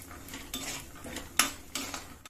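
Cumin and peanuts fried in a pan, heard as a few close metallic scrapes and clinks of a spoon stirring against the pan over a faint sizzle, quiet and brief.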